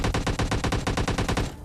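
Scoped rifle fire in the PUBG Lite video game, a loud rapid burst of about a dozen evenly spaced shots that cuts off abruptly.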